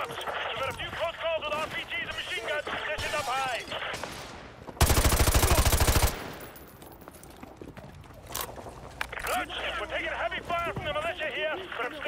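Bursts of machine gun fire in Call of Duty MW2 Remastered, a dense loud barrage midway amid game effects, with someone talking over much of the rest.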